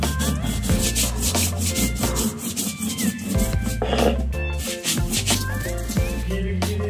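Fenugreek seeds and black cumin being ground together into a paste on a stone, a rough rhythmic rubbing and scraping that repeats steadily, close and fairly loud, alone without talk.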